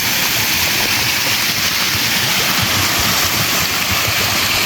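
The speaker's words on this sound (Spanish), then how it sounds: "Vamos a acercarnos ahí a la cascada." A waterfall in Ciudad Barrios, El Salvador, gives off a loud, continuous broadband roar of rushing water. It fills the whole stretch evenly and masks any other sound.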